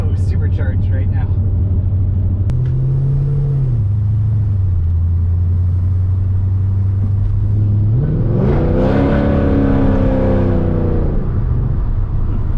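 A supercharged 3V Mustang GT with a swapped 6R80 transmission cruising along, its engine a steady low drone with a shift in pitch midway and a rising rev near the end, heard from inside the car.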